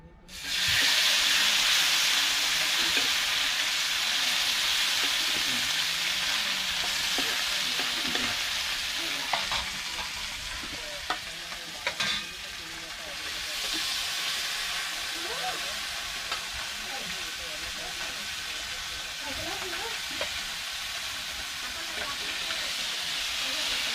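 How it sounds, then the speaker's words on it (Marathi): Mandeli fish fry in hot oil in a pan, a dense, steady sizzle running continuously at close range, with occasional clinks and shifts as the pieces are moved. "आता कढीमध्ये तेल आधी तेलावून घेतलेलं आहे आणि आता मांदेला पण फ्राय करूया"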